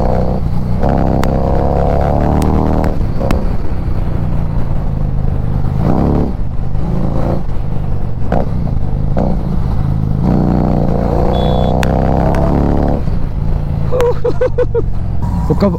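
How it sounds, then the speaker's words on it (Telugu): A Harley-Davidson Street 750 V-twin, dual-cylinder engine revs hard and loud close by, its deep, rumbling throttle blips surging and falling repeatedly throughout with no talking. "ఒక V-twin ఇంజన్, డ్యూయల్ సిలిండర్ ఇంజనే ఇంత సౌండ్ వస్తుంటే"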